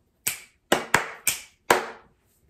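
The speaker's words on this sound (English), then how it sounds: "why am I having us repeat patterns of snapping and clapping?" A church congregation answers with a short rhythmic pattern of snaps and claps: five crisp, sharp hits in an uneven group, fairly close, with silence between them and no talking.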